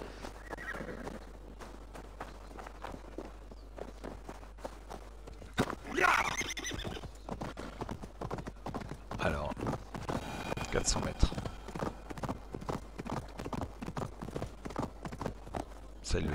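Horse neighing and clip-clopping hooves from a mount ridden in the Assassin's Creed Valhalla video game, with steady hoofbeats throughout and a louder whinny near the middle, heard under someone talking.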